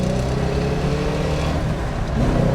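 A classic car accelerates hard in second gear, its loud, continuous engine roar filling the scene from start to finish.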